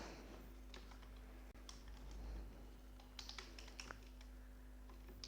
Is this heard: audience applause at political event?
no